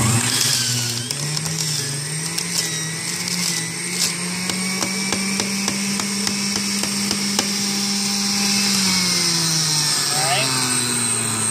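A juicer grinds steadily through a bunch of cilantro and parsley with a continuous whirring motor hum and a high whine, running the whole time with no break in the sound.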